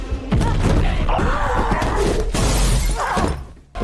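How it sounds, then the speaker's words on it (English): A glass vase shatters on impact during a fight, a loud sustained burst of breaking glass and scattering shards lasting a few seconds before dropping off, with no talking. "In self-defense, Elizabeth hits her with a glass vase"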